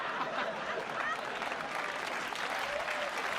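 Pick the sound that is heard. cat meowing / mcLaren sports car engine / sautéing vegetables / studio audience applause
studio audience applause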